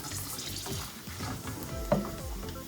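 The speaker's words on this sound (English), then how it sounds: "Saute it well." Bhindi do pyaza masala of okra, onions and red chilies sautéing in a pan, a soft steady sizzle with scraping stirs of a spoon at close range, no talk.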